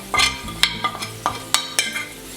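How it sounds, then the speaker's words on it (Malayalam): Chili, coriander and fenugreek powders are stirred in a pan over a low flame for a Kerala fish curry, with a run of sharp spoon scrapes and taps over a soft sizzle. "ഫ്ലെയിം സിമ്മിലാക്കിയിട്ട് വേണം പൊടികളൊക്കെ അതിലിട്ട് ചൂടാക്കാൻ"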